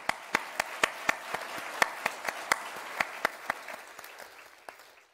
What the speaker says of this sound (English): you guys need to give yourselves a round of applause because you deserve it